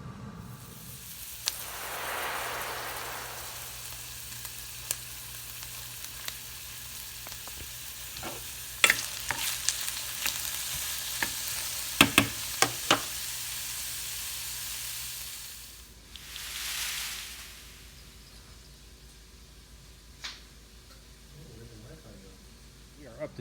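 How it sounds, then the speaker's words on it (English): Three frozen third-pound burger patties on a Country Smokers Traveler portable pellet grill, steady soft sizzle with scattered clicks and clatter of placement, a louder hiss midway, and someone talking at times. "it's time to throw on some patties. So 1, 2, 3 frozen third pound patties"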